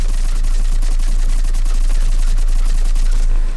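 Tempest automatic weapon in Mass Effect 3 firing a continuous rapid stream of shots, loud and close, sustained for several seconds before cutting off abruptly at the end.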